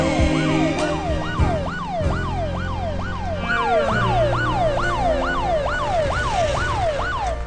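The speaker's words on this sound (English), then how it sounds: "Follow the ambulance." An ambulance siren wails in rapid, repeated rising-and-falling sweeps, loud and continuous over rumbling traffic and vehicle noise, with no voices.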